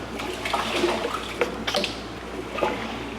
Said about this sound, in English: while I'm draining this tank